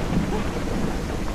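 Steady rain with low rumbling thunder in the video game No One Survived, a continuous dense wash of drops at even loudness with no voices.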